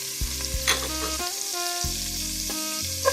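Onion sautés in olive oil for a creamy chicken noodle soup, a soft steady sizzle running under stepped electronic musical tones and occasional light clicks.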